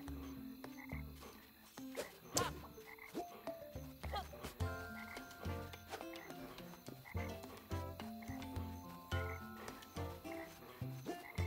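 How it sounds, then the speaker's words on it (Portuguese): Frogs croak in a video game swamp at night, a dense, steady chorus of overlapping croaks running throughout over layered musical tones, with no talking. "Será que é só esses sapos cantores?"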